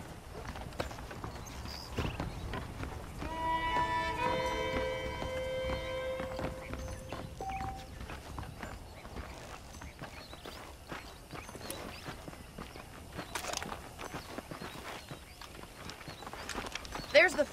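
Saddled horses in the Western video game Red Dead Redemption walk with a soft, steady clip-clop of hooves under a brief musical phrase and quiet ambience, fairly faint throughout.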